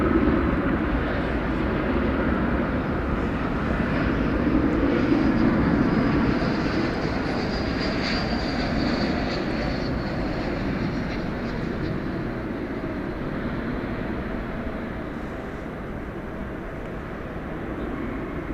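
An airliner rumbles steadily on its takeoff roll from runway 18 left at DFW Airport at night, a broad distant engine roar that swells slightly and then slowly fades, no talk.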